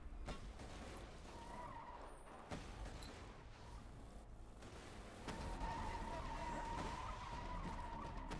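A car skids in the Borderlands 2 video game, with a long tire screech and engine roar running through the whole stretch, and the squeal growing louder and brighter near the end; no one speaks.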